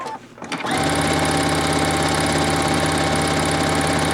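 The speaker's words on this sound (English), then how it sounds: "Now I'm going to sew 4 layers." Sewing machine stitching steadily through four folded layers of muslin, a fast even mechanical whir that starts after a brief pause and runs continuously, close and alone.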